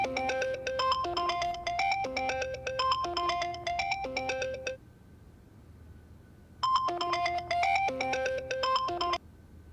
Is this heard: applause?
no